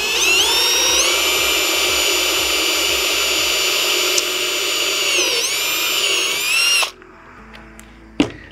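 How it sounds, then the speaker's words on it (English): Power drill boring holes down through an aluminum handrail top, a loud steady high whine that dips in pitch midway, then stops abruptly, followed by a few faint clicks. "we're going to drill our holes down through there"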